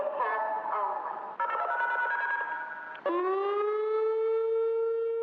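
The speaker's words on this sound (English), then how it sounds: "So let's talk about some different siren alerts and what they mean." A civil defense siren sounds in stepped tones, shifting pitch twice before settling into a loud, sustained wail; no voices.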